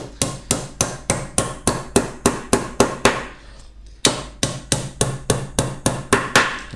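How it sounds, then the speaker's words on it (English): Steady hammer blows drive nails at an angle into a wooden Thorne nucleus beehive roof, about a dozen sharp, close strikes in an even rhythm, a short pause, then another run of blows. "It's a little process called dovetail nailing."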